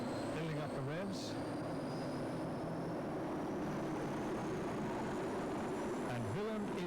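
Pulling tractor powered by a Turbomeca Turbo 3 helicopter turbine at a 1997 European tractor pulling event in Sottrum, Germany, giving a steady loud turbine roar with a rising whine, under a commentator's voice.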